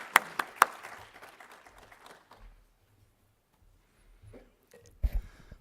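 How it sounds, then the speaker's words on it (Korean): A few loud claps at the start fade into a quiet church room with faint murmurs, then a brief burst of clapping from the congregation returns near the end. "의미의 박수 한번 하나님께 올려드리겠습니다"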